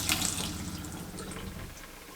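Cold water runs from an RV bathroom faucet with a new aerator, a steady close hiss of flowing water into a sink with slight sputtering from air in the line.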